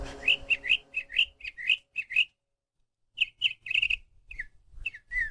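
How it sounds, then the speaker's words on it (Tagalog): Many birds chirping and whistling in a forest-like setting, rapid clusters of bright tweets in quick bursts, a short pause, then more scattered calls, fairly close and clear with no talking. "Daming ibon."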